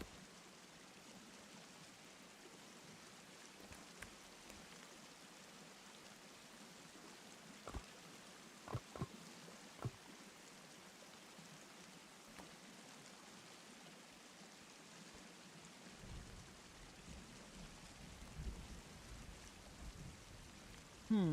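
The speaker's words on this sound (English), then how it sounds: "And there comes the rain again." Soft, steady rain hiss from the Sons of the Forest survival game, a faint even wash with a few scattered taps and clicks and a slight swell toward the end.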